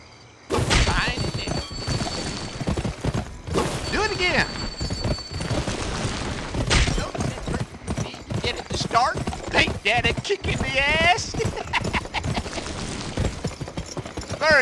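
A horse galloping in a Wild West video game, with rapid, steady hoofbeats that carry on loudly through the clip, mixed with other game effects.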